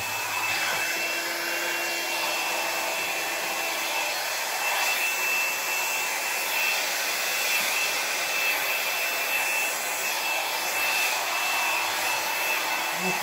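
A hair dryer blows steadily over poured acrylic fluid paint on a cradled round panel, a constant close whooshing hum with a faint high whine, continuous and without talk.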